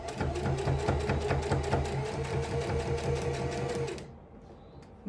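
Sewing machine stitching through many layers of ribbon skirt fabric, a loud, fast run of rhythmic mechanical thumps and clunks for about four seconds before stopping abruptly.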